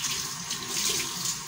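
Water runs steadily from a tap into a sink, a continuous close splashing rush as something is rinsed under it.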